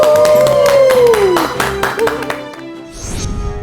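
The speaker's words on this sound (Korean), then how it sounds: "큰 박수 부탁드립니다." A studio audience claps to welcome a family medicine doctor as a guest, several seconds of brisk, fairly loud clapping over a rising musical jingle, trailing off near the end.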